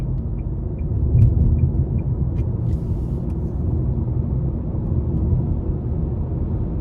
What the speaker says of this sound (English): even with the CVT, I just like the sounds that the vehicle makes